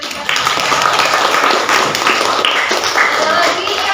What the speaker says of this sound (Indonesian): Mungkin kita bisa beri tepuk tangan dulu buat Sally dan Indra.